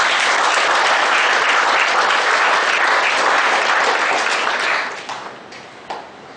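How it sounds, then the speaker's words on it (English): A large audience applauds loudly and steadily, the dense clapping tapering off into a few scattered claps at the end. "big round of applause"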